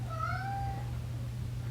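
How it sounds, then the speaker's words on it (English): Cat meowing once, a single drawn-out rising and falling meow close by over a steady low hum, with no talk. "Clancy, stop meowing"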